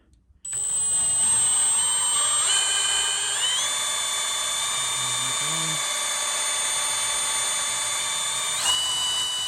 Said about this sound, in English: I'm gonna run it off of my drill.